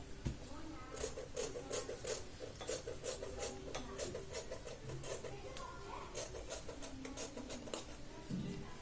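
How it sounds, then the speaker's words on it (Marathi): Scissors cut through double-folded fabric for a blouse in a fast run of crisp, rhythmic snips, close and quiet, with a faint voice briefly in the background. "बस एवढं आपण इथे कट करतोय."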